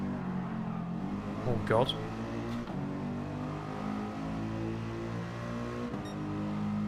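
Race car engines in Gran Turismo 7, including a Super GT NSX among Mazda MX-5s, drone and rev continuously with a pitch sweep, while a voice speaks briefly over the engine noise.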